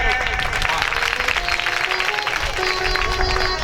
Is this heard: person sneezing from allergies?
no